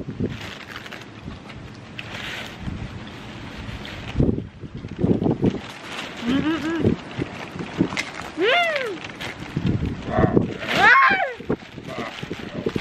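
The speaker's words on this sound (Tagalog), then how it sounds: "Mahangin." Gusty wind buffets the microphone outdoors, rumbling low throughout while several people chatter and call out nearby.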